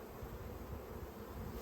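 Honeybees from a swarm trap hum in a steady, dense drone, close and low in level, continuous throughout with no talking.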